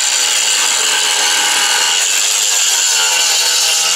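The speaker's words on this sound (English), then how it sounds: "I am cutting the floor out so I can get to the axle." Aluminium floor of a Land Rover Defender being cut out with a power tool: a loud, continuous, harsh grinding whine right up close, with no voices.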